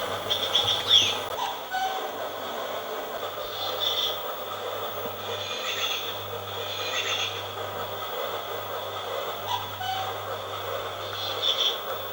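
Recorded birdsong plays in a school sensory room: scattered high chirps and twittering come and go over a steady low electrical hum, moderately loud and fairly close.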